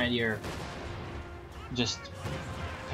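An artillery barrage fired by a Sexton self-propelled gun in the Company of Heroes 2 video game is heard as a few muffled booming blasts under continuous commentary speech.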